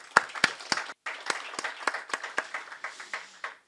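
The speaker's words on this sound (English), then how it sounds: "but we can applaud him" Applause from an audience at a formal gathering, a scattered run of sharp, fairly close handclaps that stays fairly loud before thinning out at the end.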